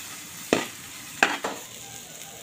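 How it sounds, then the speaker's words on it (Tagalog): A spatula stirs sisig tofu with garlic, onion and green chili in a sizzling pan, giving three short scraping clacks over a soft, constant frying hiss. "Haluin na natin."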